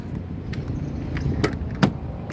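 Someone gets into a 2010 Kia Picanto 1.1 SE automatic. The door opens with a low rumble and then two sharp close clicks and a thump, heard up close.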